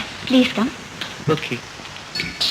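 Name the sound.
rain falling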